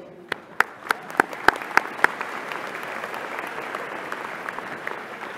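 A commencement audience applauds graduates in a large hall, opening with a string of sharp, evenly spaced claps before settling into a sustained, moderately distant wash of crowd clapping that carries on steadily.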